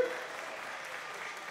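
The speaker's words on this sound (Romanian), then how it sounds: "Aplauze, vă rog, pentru Emma Bravoni" Audience applause at a live talk event: a steady wash of clapping from a crowd, fairly faint and even, lasting the whole short stretch with no voices over it.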